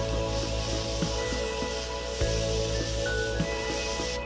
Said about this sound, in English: Now this isn't a pump, this is an aerosol, so you just keep your finger down and just wave it around.